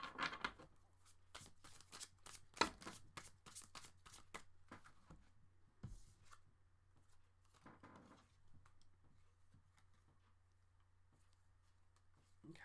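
Tarot cards being shuffled by hand, heard close up as a quick string of crisp riffling bursts and soft slaps, with some fainter shuffling further into the clip.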